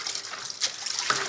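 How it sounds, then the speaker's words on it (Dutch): A peeled Breton blue lobster tail rinsed under a running tap, a steady close trickle and splash of water with brief louder surges, no voices. "Afspoelen."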